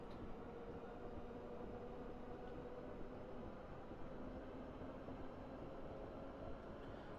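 A train runs steadily in a South London Network train simulator, a constant low rumbling drone with faint rhythmic rail clatter, even and unbroken with no talking.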